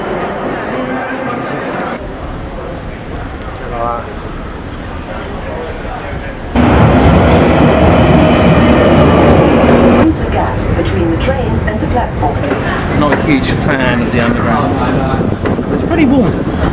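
Train bound for Manchester: a continuous rumble and rattle of the carriage rolling along the track, loud and steady with shifting roar as the surroundings change, and people talking over it at times.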